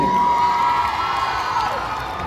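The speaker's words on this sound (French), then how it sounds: "On l'applaudit bien fort, s'il vous plaît." Audience at a cosplay contest in Paris cheering and clapping after a princess Anastasia costume is presented, a dense, steady crowd roar with shouts and a whistle-like tone running through it.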